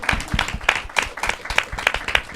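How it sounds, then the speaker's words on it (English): A conference audience at a Women in Arts panel claps for a panelist, with sharp, separate hand claps in a fairly regular rhythm, close and moderately loud, with no talking. "Can everyone put their hands together for Mary-Eve and clap?"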